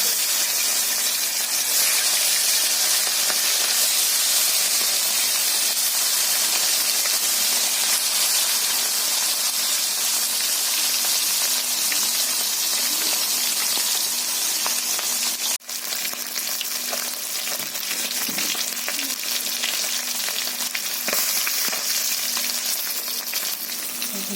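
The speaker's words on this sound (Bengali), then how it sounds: "গরম হয়ে গেছে, মাছ দিয়ে দিচ্ছি।" Fish frying in hot oil for a dish made without onion or garlic, a loud continuous sizzle and hiss that holds steady throughout, with a brief dip partway through.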